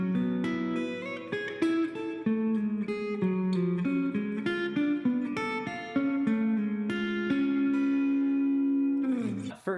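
Electric guitar playing the second half of the riff from a song, clear picked single notes and chiming chords in a steady, intricate pattern, close and alone, ending with a brief noisy strum.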